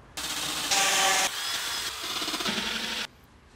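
A power drill bores holes for a rivet nut in the metal body of a camper van, one steady close whine lasting about three seconds with slight shifts in pitch and load before it stops.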